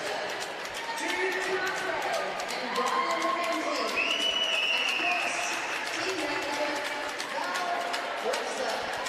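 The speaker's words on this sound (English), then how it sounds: "Danielle Butler receives one of the biggest cheers from the crowd." Arena crowd at a women's ice hockey gold medal ceremony, Perth versus Melbourne, cheering and applauding a player, a broad sustained roar of many voices with scattered whistles, steady and loud throughout.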